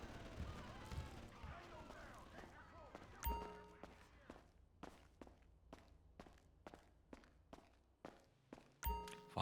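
Footsteps walking in the Grand Theft Auto video game, a steady series of sharp, evenly spaced steps with a few louder thuds, following a muddled stretch of game noise.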